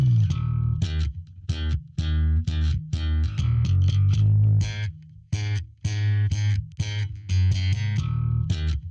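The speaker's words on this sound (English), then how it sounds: "this is what the bass sounds like on its own" Slap bass guitar plays alone in a choppy, percussive line of popped and thumbed notes with short gaps, close and punchy, no other instruments.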